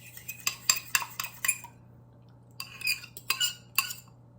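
A utensil stirs marinated eggs into cheese in a bowl for a vegetarian carbonara, giving quick clinking taps against the bowl in two bursts separated by a short pause, close and clear over a low steady hum.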